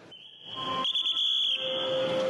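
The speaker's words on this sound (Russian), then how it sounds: "Бодрящий свист, вместо «осторожно» двери закрываются." A metro train's departure whistle, sounding in place of a doors-closing announcement in an Uzbekistan metro station, rings out high and sustained, shifting pitch briefly, over a hum of station noise, loud and close, lasting a couple of seconds.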